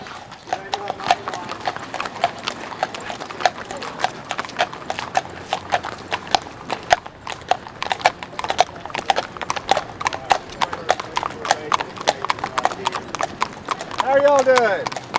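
Horse hooves clip-clop in a steady, close rhythm on a street during a mounted rally in Washington D.C., with people talking over them and a brief whinny near the end.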